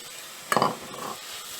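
A spoon stirs fish cutlet filling with coriander leaves in a pan, making a short scraping, rustling pass over a quiet background sizzle, followed by a softer second scrape.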